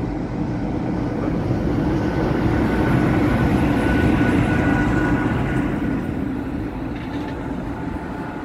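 A Hungarian Szili electric locomotive runs around its train at a station, its steady, fairly loud rumbling drone continuing throughout without a break.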